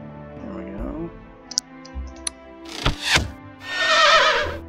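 A video game horse lets out a whinny, followed by a few clicks and thunks, then a louder burst of noise near the end, heard alone without talk.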